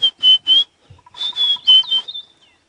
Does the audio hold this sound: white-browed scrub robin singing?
yes